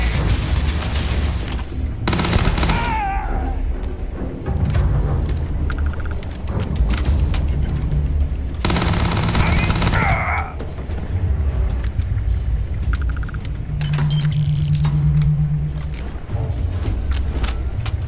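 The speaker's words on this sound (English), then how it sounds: "Heavy fire over here!" Heavy gunfire in the video game Starfield, bursts of rapid automatic shots over a constant low rumble of action noise, loud and close, with brief shouted voices between bursts.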